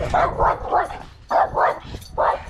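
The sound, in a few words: dog barking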